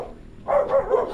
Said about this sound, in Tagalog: Parang malaking aso yun